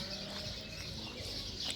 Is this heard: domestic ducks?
yes